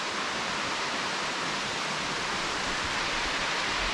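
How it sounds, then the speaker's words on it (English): Heavy rain pouring down outdoors near a house, a dense, steady broadband hiss that stays loud and unbroken throughout, with no voices. "It's starting to pour."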